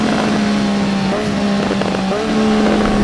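A Triumph Street Triple 765 RS engine running loud and close, holding a steady tone with short rising rev changes toward the end and no talking over it.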